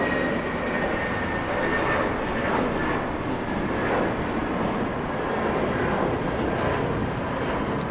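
A JetBlue Airbus A320 jet departing LAX roars with a loud, steady, broadband engine rumble that holds constant from start to finish, with no voices over it.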